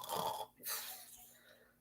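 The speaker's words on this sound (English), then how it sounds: "I'm sitting here listening to the dog snore in the other room." A dog snores faintly from another room, two quiet rasping breaths in a row, muffled by distance in an otherwise hushed space.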